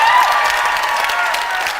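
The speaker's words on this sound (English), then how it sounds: "Applaud for Obamacare." Audience applause in a podcast studio setting, a steady dense wash of clapping that holds evenly loud for the full stretch with no voices over it.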